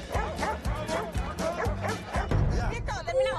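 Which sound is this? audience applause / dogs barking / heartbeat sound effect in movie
dogs barking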